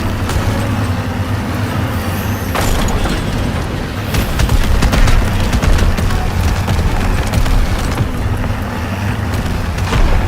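Gunfire and booming blasts in a WWII train shootout video game, a dense, steady barrage of bursts over a rumbling engine and track noise, loud and continuous throughout.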